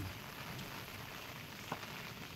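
Rain falls steadily during a storm in the Sundarbans, a soft continuous patter on surfaces with one brief knock partway through and no voices.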